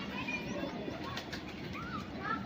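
Soft, low pigeon coos repeat close by over a steady background hum, a few gentle throaty calls rising and falling.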